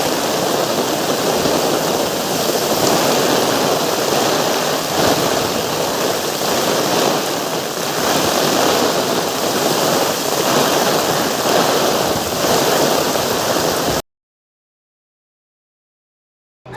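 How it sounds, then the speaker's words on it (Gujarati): Floodwater from heavy rain rushes out of a village in a loud, steady roar that never lets up, with no voices, before it cuts off near the end. "વરસાદ એટલો આવ્યો ને કે ગામની બહાર પાણી નીકળી ગયા"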